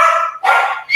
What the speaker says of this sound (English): that's the dogs going off.